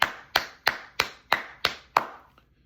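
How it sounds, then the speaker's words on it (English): Seven sharp, evenly spaced hand claps, close and clear, slowing slightly toward the end with a faint trailing tap, with no voices. "I gotta clap."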